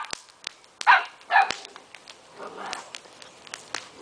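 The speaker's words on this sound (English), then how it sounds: "What are you barking at?" Seven-week-old puppies yip and bark in a few sharp bursts near the start, followed by softer whimpers and scattered thumps of movement.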